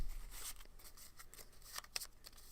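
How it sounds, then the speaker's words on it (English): Playing cards riffle-shuffled by hand, a soft quiet fluttering rattle of cards with a few sharper snaps near the end, close and alone. "we'll give it one more riffle shuffle"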